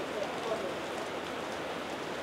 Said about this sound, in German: Es regnet draußen, es gewittert draußen